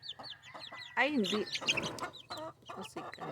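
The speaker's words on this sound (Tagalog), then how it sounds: "Ari ang ilang second nga baby sang akon mga manok." Hens and their young chicks cluck and peep close by in a garden, soft, repeated high calls mixed with a few louder clucks while a person speaks briefly.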